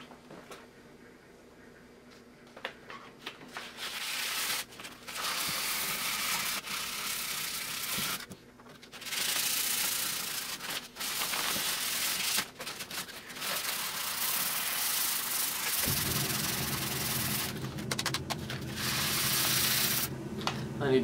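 Sandpaper rubs against a skateboard deck in long, rough, close strokes with brief pauses, and a low steady hum joins in partway through.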